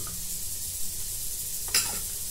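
Ghee sizzling in a kadai for tempering, with mustard seeds, cumin and curry leaves to go in for a kadhi: a steady close hiss with a brief sharp spatter near the end, and no one speaking.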